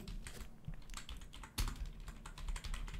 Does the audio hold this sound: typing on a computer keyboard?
yes